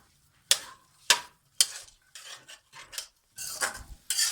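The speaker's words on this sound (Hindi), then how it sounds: "इस मौके पे अब हम इसमें डालेंगे मटर और गाजर और इनको बहुत ही अच्छे तरीके से मिला लेंगे।" Peas and carrots being stirred and roasted in a pot for pilaf, sharp scraping spoon strokes in a loose rhythm, the first three spaced evenly, then quicker rustling stirs and sizzling, close and clear with no talk.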